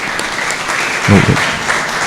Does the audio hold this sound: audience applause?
yes